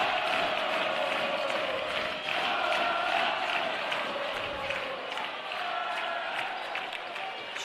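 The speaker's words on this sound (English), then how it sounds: "you should hear this crowd absolutely insane" A packed arena at an NAIA men's basketball first-round game roars after a dunk off an intercepted pass, a loud, sustained wall of cheering and shouting that barely dips throughout.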